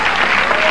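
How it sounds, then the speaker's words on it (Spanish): Applause from a live audience at a swing latino performance, a dense, steady wash of clapping heard in a brief loud burst. "Gracias por sus aplausos"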